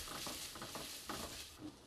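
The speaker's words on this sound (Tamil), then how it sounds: "இப்போ வந்து பார்த்திங்கன்னா கொஞ்சம் கோல்டன் கலரில் நல்லா ஃப்ரையாக இருக்குது வெங்காயம்" Chopped onions frying in a pan for a potato paratha filling, a soft steady sizzle with light stirring scrapes and faint taps, heard quietly and alone.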